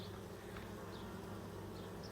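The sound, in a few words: honey bees at the front of a hive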